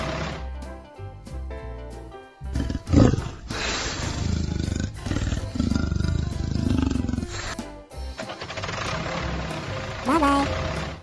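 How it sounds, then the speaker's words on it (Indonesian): A leopard roars in an animal cartoon. Several loud, rumbling growls and roars come up close over a musical background. "Leopard. Macan tutul."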